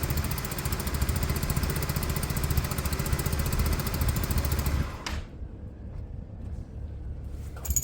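A Peugeot engine idles loudly and roughly just after an ignition repair, with a loose EGR system giving it a loose-exhaust rattle. It runs steadily for about five seconds, then is switched off, leaving near quiet.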